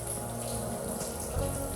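Water falling and splashing steadily inside Gosu limestone cave, a continuous wet patter with a close drip-like texture.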